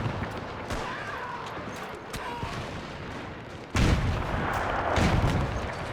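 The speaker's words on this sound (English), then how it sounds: "Cool sounds there as well as the bullets whiz past us." Bullets crack and whiz past amid distant rifle and artillery fire in the WW1 game Between Empires, scattered sharp shots over a steady battlefield rumble, with a louder burst of firing near the end.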